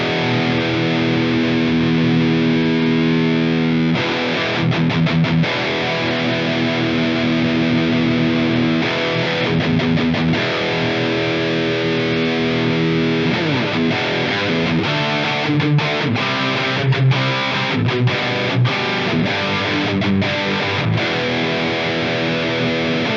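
A high-gain electric guitar tone from a Line 6 POD Go with the resonance maxed chugs through palm-muted riffs and sustained heavily distorted chords with deep low end, loud and close, alone without voices.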